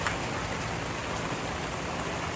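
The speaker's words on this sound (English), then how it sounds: "it's raining" Steady, dense rain pattering on a surface, a constant loud hiss without pauses or voices.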